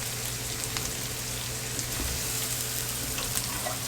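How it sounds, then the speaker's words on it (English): Soft onions sizzle steadily in a pan as thyme goes in, a close, even frying hiss with faint stirring ticks and no talk, for onion gravy with Salisbury steak meatballs. "Okay, now my onions are soft. I'm going to go ahead and add in my thyme."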